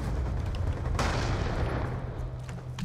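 In Black Ops 2 a gunshot cracks loudly at about the one-second mark and booms over constant dense game noise, with another sharp hit at the very end.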